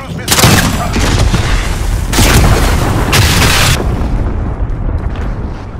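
A cruise missile strike in a video game, heavy booming blasts rolling into one another in loud, sustained waves of rumble, with bursts of extra impact near the start and middle.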